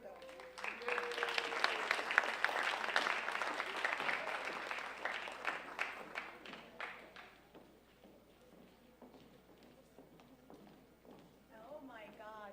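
Audience applause at a first-year college convocation, a dense roar of clapping that swells early and slowly thins out, with a voice coming in over the fading claps.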